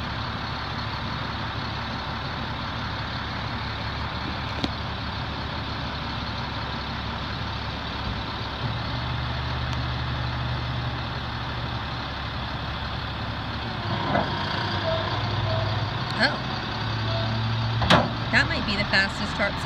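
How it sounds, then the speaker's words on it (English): Hydraulic PTO-assisted single-cylinder tarp system on a dump truck bed running at a steady low mechanical drone under the truck engine, ending with a few clanks and thumps near the end as the tarp finishes; someone talks over it. "Fastest tarp system I've ever seen."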